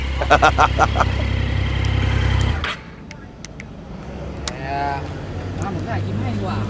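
A stock Triumph Street Triple 675 three-cylinder motorcycle engine idles with a steady low rumble, then cuts off abruptly partway through, leaving quieter background sound with some voices.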